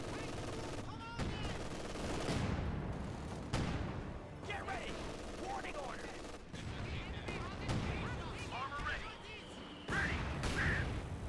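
Company of Heroes 2 machine gun raking the battlefield in repeated bursts amid other gunfire and impacts, with a caster talking over the loud, busy combat noise.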